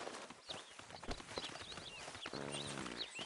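Horse hooves clip-clopping at a walk in the Red Dead Redemption 2 video game, an even rhythm of close hoofbeats over soft ambient game sound, with a brief low snort or whinny near the end.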